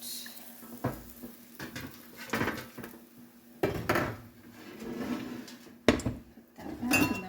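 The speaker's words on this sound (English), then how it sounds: "And I'm gonna get another cookie sheet. And pull that out." A metal cookie sheet is pulled out in a kitchen, giving several separate clanks, scrapes and rattles of metal spaced over a few seconds, close and moderately loud, with no talking.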